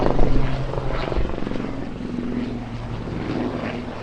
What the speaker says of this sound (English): Big helicopter.